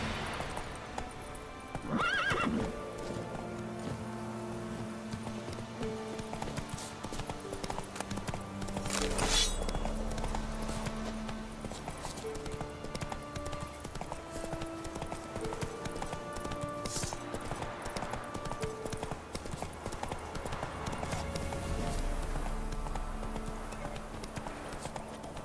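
Roach, the horse in The Witcher 3, gallops with steady rhythmic hoofbeats over a game music backdrop, punctuated by a couple of loud whinnies.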